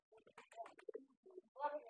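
A pigeon gives a few soft, low coos at close range among farm pigeons, the short calls interleaved with a nearby human voice.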